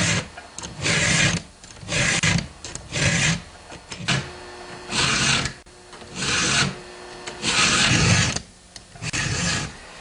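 Chainsaw teeth being sharpened with a hand file, a series of loud rasping forward strokes in a steady back-and-forth rhythm, each lasting about a second with short quiet gaps between them.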